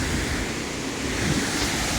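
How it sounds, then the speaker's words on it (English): A waterfall pours over rocks on the Appalachian Trail, a continuous, loud roar of rushing water close by with breezy wind noise and no voices. "You feel the breeze from the power of the falling water"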